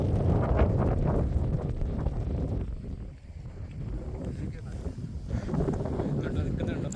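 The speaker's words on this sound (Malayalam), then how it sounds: "നല്ല കാറ്റും വീശുന്നുണ്ട്." Strong wind buffets the microphone at the Parunthumpara hilltop viewpoint, a constant low rumbling roar with gusts that ease briefly midway and then build again.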